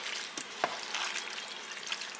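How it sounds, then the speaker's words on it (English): Marinara sauce being stirred in a pan with a spoon, soft wet scraping and light sizzle in short irregular strokes, close and moderately quiet, with no voices. "You just want to get that all good and stirred up"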